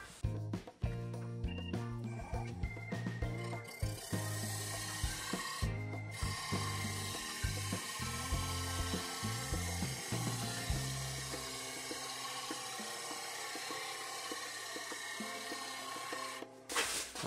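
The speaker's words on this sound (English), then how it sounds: "Then I'm going to shear scrape it." A maple bowl turning on a wood lathe while a scraper shears across its surface, giving a steady close scraping and rubbing sound with brief breaks and a low motor hum underneath.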